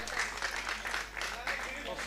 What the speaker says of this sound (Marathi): टाळ्यांचा प्रतिसाद हवाय, कंटिन्यू टाळ्या प्लीज.